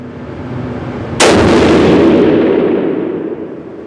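A rifle fires a single Hornady cartridge at a range, one sudden loud blast followed by a long rolling echo that slowly fades, with no talk.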